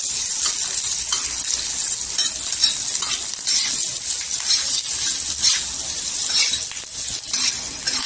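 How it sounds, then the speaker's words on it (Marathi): Cumin, garlic and salt sauté in oil for green-chilli thecha, a loud continuous hissing sizzle close by with faint stirring scrapes underneath, no talking. "जिरं टाकलेलं, लसूण टाकायची, चवीनुसार मीठ टाकायचं आणि छान असं तेलावर परतून घ्यायचं"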